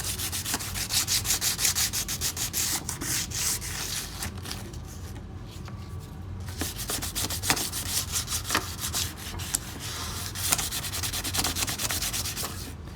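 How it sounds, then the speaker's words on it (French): Hand-sanding a car alloy wheel rim, a rhythmic rasping scrub of quick back-and-forth strokes, close and steady with a short pause midway. "Et après le but c'est de venir poncer toute la jante."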